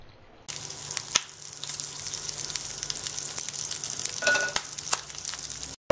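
Onions frying in a pan for a chicken masala, a steady soft sizzle with occasional pops and a few utensil clicks, fairly faint and with no talking.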